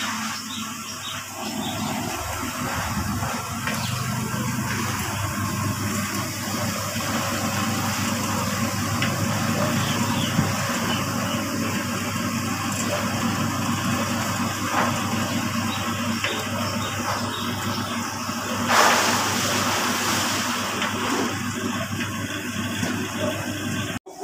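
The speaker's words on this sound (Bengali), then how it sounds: "দেখো এটা মোটরের সাহায্যে কিন্তু ঘুরছে, আর এই জায়গা দিয়ে কিন্তু নোংরা জলটা বেরিয়ে যাচ্ছে।" A motor-driven drying machine spinning washed potato slices for chips while dirty water drains out, a continuous rushing, gushing whir with steady mechanical drone throughout, close and loud.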